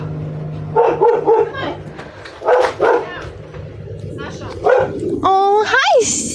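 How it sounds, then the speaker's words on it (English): A dog barks and yips in short bursts on a patio, mid-distance, with whimper-like rising calls near the end, while people talk in the background. "There's a dog on the patio."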